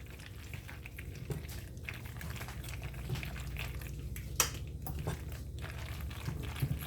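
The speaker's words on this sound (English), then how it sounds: "I'm just going to mix all that together" Boxed mac and cheese being stirred in a pot after the cheese goes in, a soft continuous wet churning with small scraping clicks against the pot, steady and close, with no talk.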